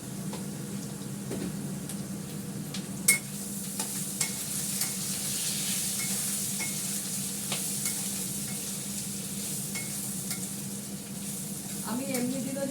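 Spices with Kashmiri chili powder sizzle steadily in a hot pan while a spoon stirs and scrapes through them, a continuous close frying hiss with small clicks of the utensil.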